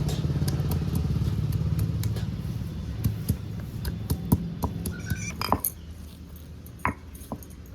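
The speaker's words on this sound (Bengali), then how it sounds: "রসুনটা আমি একটু থেতো করে নিচ্ছি পুরো বাটবো না হালকা এমনি থেতো করে নেব" Garlic cloves are lightly crushed by hand on a grinding stone, giving scattered sharp taps and clinks over a steady low rumbling background, growing sparser toward the end.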